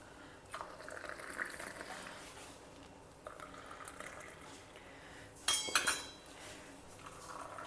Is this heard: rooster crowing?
no